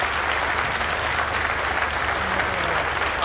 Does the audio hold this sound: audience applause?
yes